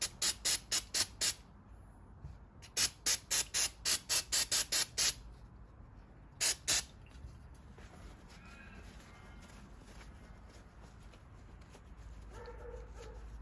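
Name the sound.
spraying brake cleaner from an aerosol can onto a car door lock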